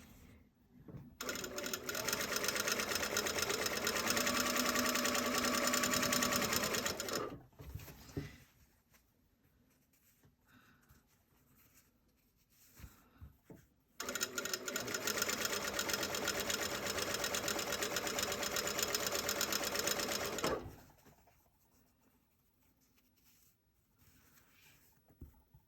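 A sewing machine stitches in the ditch along a jacket seam in two long, loud, close runs of about six seconds each, separated by quiet pauses with light handling noises.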